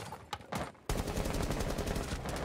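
Gunfire from a weapon in Rainbow Six Siege: a few sharp isolated shots, then a loud sustained burst of rapid automatic fire continuing close and unbroken to the end.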